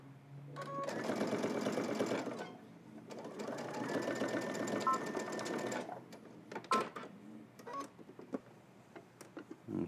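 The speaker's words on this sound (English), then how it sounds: "now I'm doing a second row of top stitching a 1/4 inch away from" A sewing machine runs top stitching along a garment in two sustained bursts, with a short pause between them, followed by scattered clicks and handling noises.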